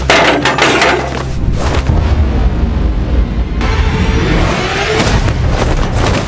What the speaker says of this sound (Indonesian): Beralih pada Sehyun yang berusaha menghindari tembakan Min-hwan dengan bersembunyi di balik rak buku.